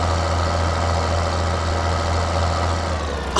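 Tractor engine idling in the video game Farming Simulator, a steady low mechanical drone with a constant hum that runs unbroken and loud throughout.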